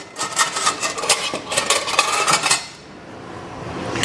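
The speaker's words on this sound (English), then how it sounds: "I got a spoon here to get that honey out" A metal spoon clinks and scrapes inside a jar while digging out honey for a honey garlic chicken stir fry, a run of close, bright taps and scrapes for about two and a half seconds before falling quiet.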